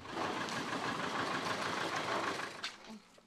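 A tractor loaded with provisions for a flooded Ukrainian village runs with a steady low mechanical engine drone, moderately distant, fading and faltering near the end.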